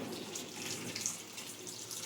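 Hot water pours from a kettle in a steady, soft stream, quiet and close, with a faint splashy trickle and no talking.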